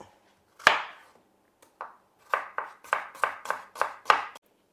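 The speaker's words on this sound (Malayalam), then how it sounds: "ഇനി സവാള കട്ട് ചെയ്യാം" A knife chops onion on a board: one firm chop, a pause, another, then a quick run of about eight crisp, evenly spaced chops.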